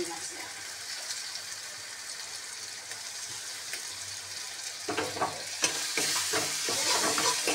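Prawns tipped into a hot pan of coconut-free malai curry base, frying with a steady sizzle that grows louder and busier as they are stirred, with scraping clatter toward the end.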